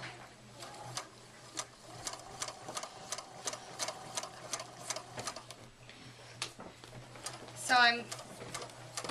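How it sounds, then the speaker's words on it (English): A sewing machine stitches corner to corner across a T-shirt quilt with a steady run of close, even needle clicks over a low motor hum. A pigeon coos briefly near the end, and a single spoken word is heard. "just using a regular stitch, I'm going to stitch from corner to corner"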